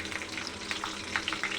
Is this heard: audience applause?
no